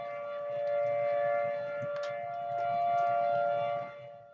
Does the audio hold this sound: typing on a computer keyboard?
no